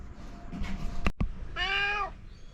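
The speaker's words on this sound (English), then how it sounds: "This is just an annoying cat." An annoying cat lets out a single drawn-out, rising then falling meow after a couple of sharp knocks, heard over a low background rumble.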